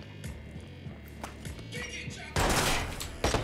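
A light machine gun fires in the video game Watch Dogs: rapid thudding bursts of shots over a low hum, then a loud dense burst of gunfire toward the end.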